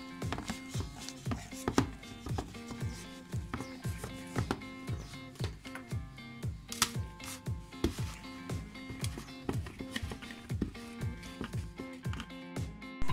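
Pancake batter for Japanese-style pancakes being beaten in a bowl, a fast regular run of knocking whisk strokes against the bowl, close and continuous with no talking.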